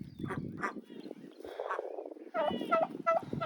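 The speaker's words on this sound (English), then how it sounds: "And now she's got turkeys stalking her." Several turkeys gobbling and warbling, some distant and some closer, with rapid rattling bursts outdoors.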